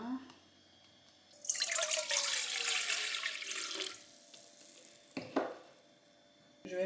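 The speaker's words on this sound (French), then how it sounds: "Donc je vais mettre l'eau que j'ai déjà mesurée." Measured water is poured into a bowl to make bread dough, a loud splashing pour of a couple of seconds followed by a few clanks and handling sounds, recorded close in a quiet kitchen.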